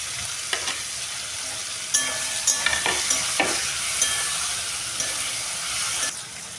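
Onion frying with tomato and green chili in a pan, with a steady sizzle and repeated scraping stirs of a spoon or spatula, close and fairly loud, with no talk.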